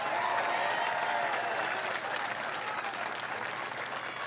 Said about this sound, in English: Let's clap on that one.